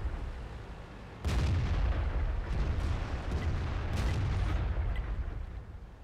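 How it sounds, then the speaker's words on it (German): A heavy tank cannon shot in World of Tanks fires with a sudden deep boom, followed by a long rumbling roll and a second fainter crack a few seconds later, fairly distant and with no talk over it. "Hat er gerade nach uns geschossen?"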